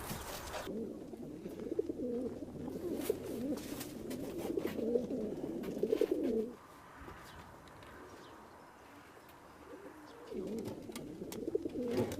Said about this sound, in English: So I got pigeons.